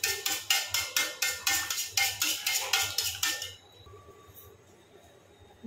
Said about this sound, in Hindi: अब इसको खूब अच्छे से फेंट लीजिए